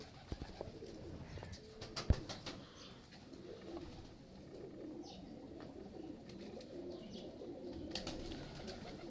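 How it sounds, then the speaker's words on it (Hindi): Low soft cooing from Mistri-line pigeons kept by a fancier, a steady murmur of coos running throughout with a sharp knock near the start and faint background chatter. "ये मिस्त्रियों वाले मिस्से कबूतर हैं।"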